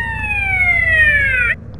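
An ambulance siren in the video game GTA San Andreas wails as a steady, loud electronic tone gliding slowly downward, then cuts off abruptly near the end over a low rumbling background.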